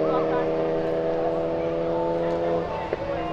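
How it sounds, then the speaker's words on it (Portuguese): A Chevrolet Caravan runs at a drag racing strip, its engine a steady, loud, droning rumble that holds nearly constant throughout, with people talking over it. "A primeira vez que eu vejo uma Caravan aqui na pista de arrancada"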